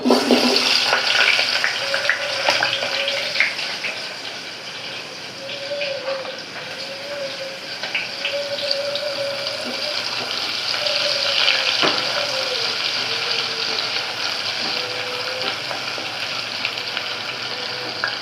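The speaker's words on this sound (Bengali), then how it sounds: "এখানে পরিমাণ মতো তেল দিয়ে দিয়েছি। তো এখন হচ্ছে পেঁয়াজ কুচি দিয়ে দিচ্ছি আমি" Chopped onions frying in oil in a pot for a duck and coconut milk curry, a steady close sizzle and hiss that runs throughout with faint stirring, no voices.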